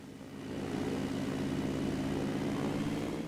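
A propeller airplane engine in Microsoft Flight Simulator on Xbox Series X drones steadily after a quick swell, a loud continuous hum that holds level to the end.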